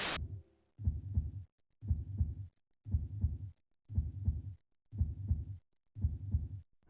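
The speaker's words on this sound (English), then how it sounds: "when you're sneaking, there's a consistent heartbeat sound for no other reason than to make you tense" Steady heartbeat played while sneaking in the video game Manhunt: seven evenly spaced, muffled double thumps, low and throbbing, heard alone after a brief burst at the start.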